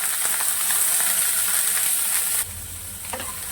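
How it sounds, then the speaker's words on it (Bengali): Ridge gourd peels frying in hot oil, a steady close bright sizzle with a constant hiss and occasional stirring clicks that settles slightly quieter near the end. "তেলটা দেখো আমার গরম হয়ে গেছে এবার আমি এর মধ্যে দিয়ে দেবো ঝিঙের খোসাটা"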